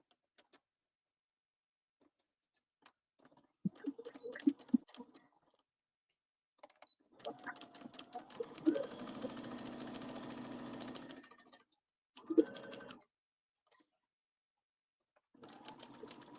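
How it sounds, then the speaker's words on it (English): A sewing machine stitches a bomber jacket seam at a half-inch allowance, with short start-stop runs and one longer steady stretch of humming stitches, close and fairly quiet. "we are sewing 1/2 inch allowance"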